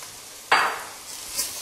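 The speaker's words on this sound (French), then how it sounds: "Donc là, on remue pour qu'il devienne lui aussi transparent." Risotto rice is stirred in a pan with softened onions, giving one sudden scraping sizzle that fades quickly, then a faint second stir.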